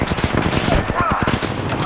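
Video game gunfire crackles in rapid, dense bursts close by, a continuous fusillade of overlapping shots lasting the whole stretch.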